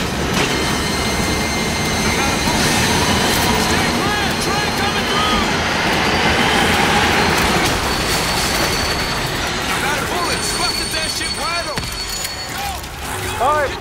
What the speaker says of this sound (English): Send the train through!